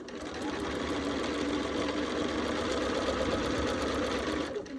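A sewing machine stitches quilt fabric in a steady, continuous whir that runs nearly five seconds at close range, then stops abruptly at the end.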